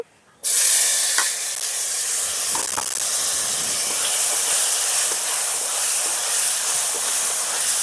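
Tomato hits hot oil in a pan already seasoned with salt and turmeric, setting off a sudden loud sizzle that holds steady as a dense hiss throughout.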